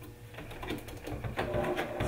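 A sewing machine runs steadily, stitching pinned fabric pieces of a basic bodice sloper in a continuous close-up mechanical whir with a slight rhythmic pulse.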